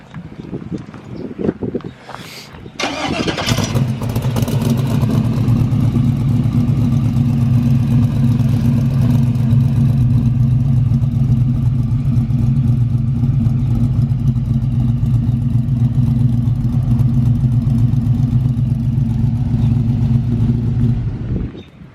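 A 1984 GMC C10 squarebody with an LS swap and MagnaFlow exhaust cranks over, catches and settles into a steady, loud, close idle with a deep, even rumble.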